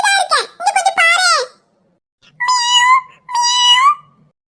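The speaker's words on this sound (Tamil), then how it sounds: "இரியா, இங்க பாரு, உன் மியாவ் எங்க இருக்கு?" Cartoon cat meowing, a run of high, whiny mews in two bursts separated by a short pause, close and loud.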